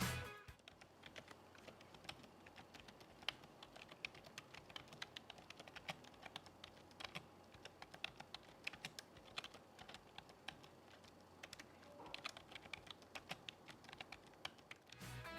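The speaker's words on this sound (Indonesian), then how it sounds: "Dan buat yang penasaran berikut ini adalah keyboard test dari bundling AIOPC ini." Typing on the bundled membrane keyboard of an Acer Aspire C24-1800 all-in-one PC, a quiet, continuous patter of soft keystrokes at an uneven pace, heard alone and close.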